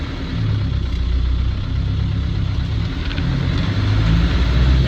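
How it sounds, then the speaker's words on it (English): Land Rover Defender 90 300TDi Wolf soft top with an R380 gearbox, its diesel engine running steadily while driving, a loud continuous low rumble with cabin and road noise and no talk. "Engine feels and sounds really healthy."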